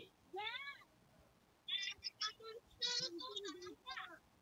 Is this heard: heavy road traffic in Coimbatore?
no